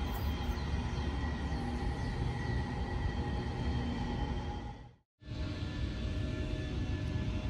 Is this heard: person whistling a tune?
no